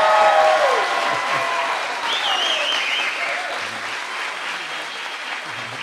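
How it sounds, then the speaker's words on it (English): A wedding congregation in a church breaks into steady applause mixed with whoops and high cheers, the clapping dense and close, fading slightly toward the end. "you can just show them your approval with some celebration cheers and applause"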